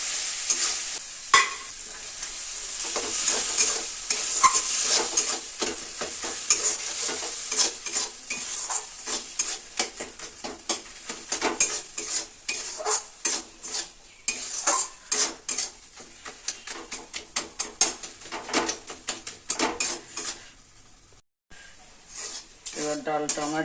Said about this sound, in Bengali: আদা রসুনের পেস্টটা একটু ভাজা ভাজা হলে আমি ডালটাও দিয়ে দেব